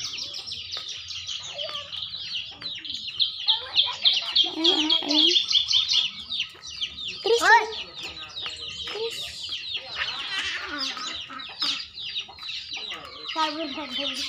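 Village chickens and chicks cluck and peep steadily for a long stretch, close by, with high chirping and a sharper squawk in the middle, mixed with occasional voices in the background.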